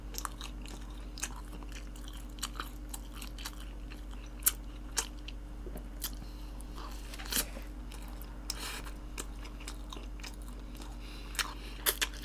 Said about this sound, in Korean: 모조 피자가 마늘과 마늘 피자에 마늘 소스를 찍어 먹어요